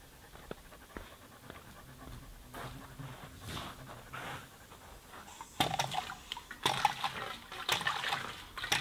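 A dog breathes in quick, soft pants after a two-mile run, then laps and slurps at a water bowl in a quiet room. The sounds are faint and close, with no one talking.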